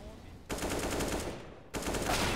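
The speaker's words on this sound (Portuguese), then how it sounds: "Isso, Brecht, que tiro da hora, mano!" Dense bursts of automatic gunfire come from a shooter video game in two loud volleys split by a short pause, with a faint voice in the background.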